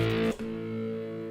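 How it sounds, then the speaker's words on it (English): A distorted electric guitar note rings through a small amp, breaks off abruptly, then a quieter steady tone hums on. "Now what you're hearing is that amplifier coming through that microphone."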